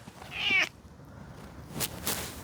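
A cat meows once, loud and close, followed by a pause and two short fainter sounds, with no talking.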